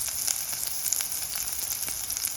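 A little garlic sizzles and spits steadily in a hot pan, cooked for banana heart sisig, with crackling pops scattered through a constant bright hiss and no talking.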